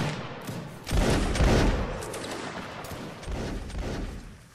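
Musket volleys crack out in Mount & Blade: Warband's Napoleonic Wars battle, two loud clustered bursts of gunfire with rumbling tails, close and unaccompanied by speech.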